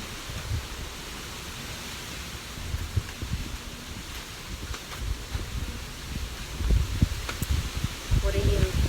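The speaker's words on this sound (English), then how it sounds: "The wind is blowing." Steady outdoor wind gusting with a broad, rustling whoosh that swells toward the end, continuous and fairly close, with no talking over it.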